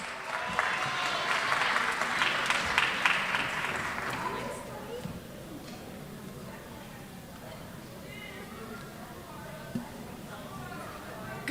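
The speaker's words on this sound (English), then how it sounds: "A round of applause," Audience applause at an evening jazz festival in Mount Vernon, full and lively for about four seconds before thinning into scattered claps and crowd murmur.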